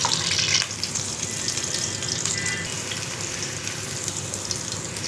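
Cumin and mustard seeds sizzling in hot oil for a fish curry: a steady, dense crackling hiss, loudest at the very start, continuing evenly throughout with no voices.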